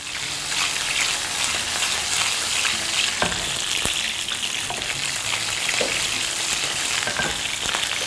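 Chicken pan-frying in oil over medium-low heat, half-fried so both sides crisp, gives a steady dense sizzle and crackle throughout, with a few sharper pops, close and alone without talk.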